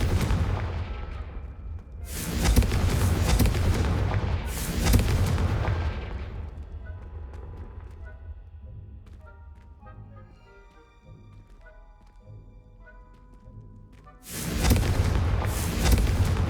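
Confringo spell explosions in the Hogwarts Legacy video game: three loud booming blasts, two close together near the start and one at the end, with quieter crackling and clattering debris between them.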